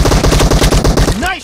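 Rapid automatic gunfire in the PUBG video game, a loud burst of evenly spaced shots lasting about a second before fading into a short tail.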